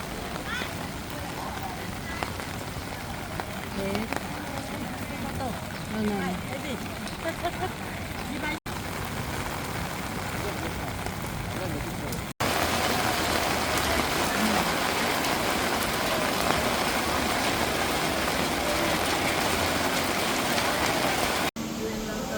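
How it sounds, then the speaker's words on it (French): Heavy rain pours down in the mountains beside a restaurant, a dense, loud, continuous hiss that grows stronger partway through, with people talking in the background. "Il pleut des trompes d'eau, j'ai jamais vu ça en fait."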